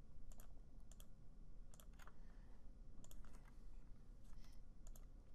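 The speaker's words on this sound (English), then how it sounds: "And I could type in here." Typing on a computer keyboard in short clustered bursts of crisp clicks, fairly faint over a low background hum, with no talking.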